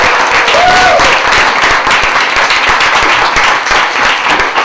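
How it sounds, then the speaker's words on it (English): Lively applause from an audience at a poetry reading, dense clapping with a brief whoop near the start, holding steady and close throughout. "I hope you will give a round of applause to our"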